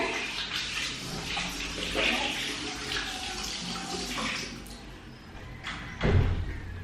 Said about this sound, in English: So I'm gonna rinse this one off and I'll be right back.